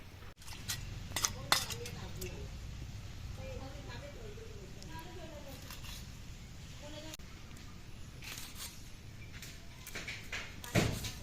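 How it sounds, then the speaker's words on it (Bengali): A knife chops four green chilies on a board in a village kitchen, a series of sharp taps in short bursts near the start and again near the end, with quiet voices and background sounds in between. "চারটে কাঁচা লঙ্কা ধুয়ে কুচিয়ে কেটে নেব"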